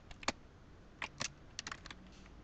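Light tapping on a computer keyboard while entering code, a few soft scattered keystrokes in short clusters against a quiet background.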